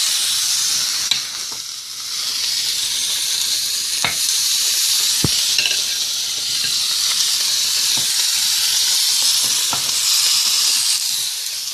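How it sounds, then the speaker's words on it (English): Short ribs sear in a hot pan before braising, producing a loud, continuous hissing sizzle up close, broken by a few sharp pops and crackles, with no voices. "I am about to braise the ribs."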